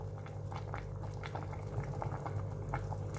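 A pot of Thai sour curry (gaeng som) bubbles at a steady boil with large pieces of fish added, close and continuous gurgling with small popping bursts, no talking.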